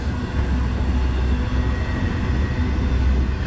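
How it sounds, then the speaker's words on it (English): Norfolk Southern 22X freight train passing through the Edison grade crossing with triple locomotives chugging, a loud, steady, close rumble of engines and rolling cars filling the whole stretch without letup. "The train's literally at the crossing and the gates aren't even down."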